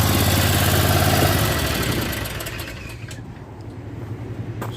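A Skag lawn mower engine idles with a steady low drone that drops off after a couple of seconds as it is shut down, leaving quieter background noise.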